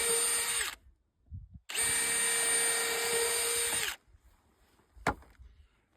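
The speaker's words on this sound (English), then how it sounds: "I can drill the holes right here so I don't have to do it out at the post" A power drill bores holes through a wooden rail for a post-and-rail fence, two sustained whining bursts close by with a short gap, then a faint knock.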